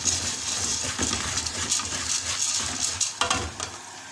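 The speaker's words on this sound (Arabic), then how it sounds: "حطينا 4 معالق من الزيت وكيسين من المكرونة بنحمرهم لما يبقى لونهم ذهبي وجميل كده" Pasta sizzling and frying in a few spoonfuls of oil until golden, a steady close hiss with faint stirring scrapes and clinks, no talk.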